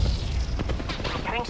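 Gunfire in the Apex Legends battle royale game, a dense burst of booming shots and rattling impacts packed into a short loud moment, with game effects and a voice alongside.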